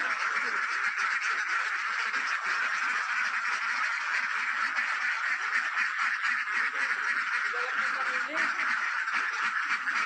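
Laying ducks in a poultry shed keep up a dense, continuous chorus of quacking, loud and close throughout with no pauses.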